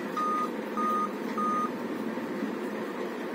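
Startup error beeps from a Dell Inspiron laptop with a suspected CMOS battery fault, three steady, evenly spaced electronic tones, each about a third of a second, over a constant fan-like hum.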